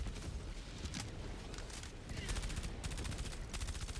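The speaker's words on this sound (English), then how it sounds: "It's like it's some machine gun fire from over there." Machine gun fire in the video game Helldivers 2, rapid bursts of shots heard faintly in the distance, repeating in rhythmic volleys over a low rumbling background.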